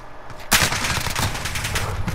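Automatic gunfire in Call of Duty: Modern Warfare erupts in a sudden loud burst of rapid shots, then keeps up a fast, dense rattle close by.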